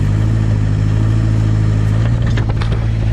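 A JCB 208S backhoe loader's heavy diesel engine idles steadily and loud on a low idle, a constant low rumble with no revving, close by.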